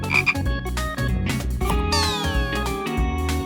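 A tiny cartoon frog croaks a few times over bright, busy children's puzzle-game music, its short calls standing out near the start of the clip.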